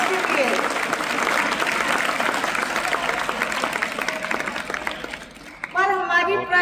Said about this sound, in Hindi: तो एक बार और जोरदार ताली हो जाए ब्लॉक लेवल पे फर्स्ट प्राइज के लिए